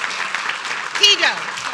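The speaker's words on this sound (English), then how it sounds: "give a big round of applause" A short burst of clapping at a city council meeting greets poster contest winners, moderately loud and mixed with talking voices and a child's cry over it.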